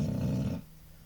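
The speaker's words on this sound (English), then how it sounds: "Sorry about my dog, guys." A dog growls in a low, rumbling, close burst lasting about half a second, then cuts off to quiet.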